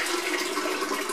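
Homemade custard mixture for Grapenut ice cream pours into a container, a brief close liquid gush and splash with no talking.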